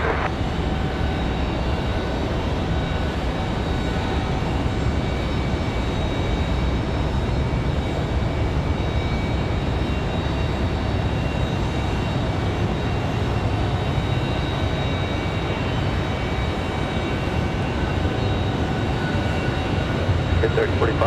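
An Alaska Airlines Boeing 737 MAX 9 taxies at Raleigh-Durham International Airport on a windy day, a steady broadband jet roar that stays loud and even throughout, with wind noise blended in.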